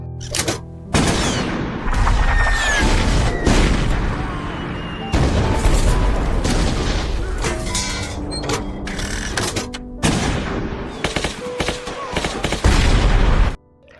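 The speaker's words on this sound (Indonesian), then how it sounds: "Kolonel Lee yang memantau pasukannya memerintahkan untuk menggunakan artileri jarak jauh untuk mengebom pasukan Jerman." In a battle scene from the 2006 war film Days of Glory, long-range artillery bombards German troops with dense, rumbling booms and bursts of gunfire that roll on almost continuously and loudly, broken by a few brief gaps.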